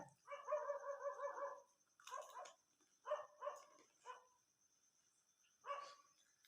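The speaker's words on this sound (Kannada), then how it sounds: "ನಾಯಿಗಳು ಬಗಳಾಕತ್ತವ್ರಿ ಹೊರಗೆ" Several dogs bark outside, somewhat distant and faint, with a burst of rapid barks followed by scattered single and double barks spread over several seconds.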